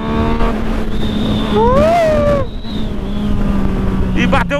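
A Yamaha MT-09 motorcycle accelerates, its engine note rising and climbing in pitch, loud and close beneath steady wind and road noise, with a voice briefly heard near the end.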